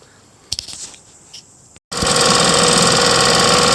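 A small 1939 Bendix Eclipse Twin 4.5 hp outboard motor starts up abruptly after a few clicks and knocks, then runs at a steady, loud, buzzing idle.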